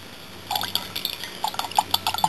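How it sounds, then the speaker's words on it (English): Baking soda and vinegar mix fizzing in water for an HHO setup: faint bubbling with irregular small pops and clinks against glass, close up, with no talk. "see how it's making those little bitty bubbles?"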